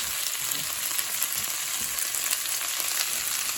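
Coarsely chopped home-grown hydroponic cabbage greens are stir-fried for yakisoba, giving a loud, continuous close-up sizzle with light stirring throughout.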